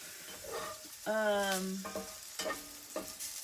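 Food sizzles in a pan that is too hot, a close, crackling fry with a few handling clatters, briefly overlaid by a sung or hummed tone partway through.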